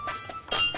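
Cups clink together in a toast at a children's visit: one short, bright clink rings out close by after a moment of soft room noise.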